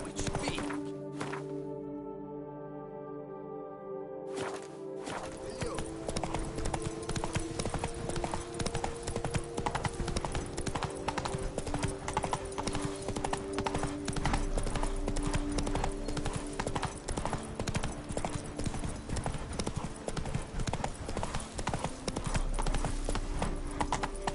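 Horse hooves clip-clopping steadily at a run in The Witcher 3 video game, a continuous fast clatter with in-game music and voices over it, the hoofbeats starting after a brief intro.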